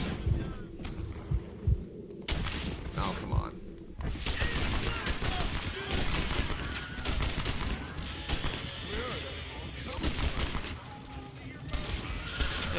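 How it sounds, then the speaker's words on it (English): Gunfire in the Red Dead video game during a fight with rustlers near a cattle herd: near-continuous rapid shots and rattling volleys run throughout, loud and dense, over a low rumbling background. "Shooting was unbelievable."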